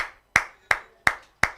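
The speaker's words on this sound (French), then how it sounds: "Est-ce qu'on peut applaudir pour le Seigneur?" Four sharp, evenly spaced hand claps ring out close and loud during a church worship service, each decaying quickly before the next.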